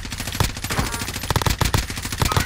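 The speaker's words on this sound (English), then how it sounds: "He just shot through the wall." Rapid automatic gunfire in Call of Duty: Warzone, shots fired through a wall, rattling in dense, close bursts across the whole moment.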